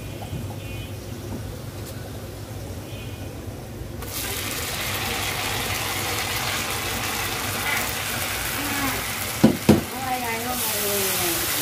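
Ground nut and onion paste tipped into a hot pan starts a loud, steady sizzle that takes over from a quieter background, with a couple of sharp clatters from stirring near the end.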